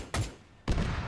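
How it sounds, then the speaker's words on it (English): Two distinct gunshots in Arma 3, a sharp crack followed about half a second later by a louder, fuller shot with a lingering rumbling tail. "Damn, that was a double shot"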